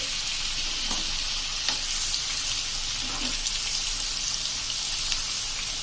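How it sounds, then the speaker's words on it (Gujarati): Stuffed chillies frying in a pan, a steady bright sizzle throughout with occasional soft clinks and stirring sounds, close and continuous. "આ રીતે આપણે એકદમ સરસ ફ્રાય કરી લેવાની છે"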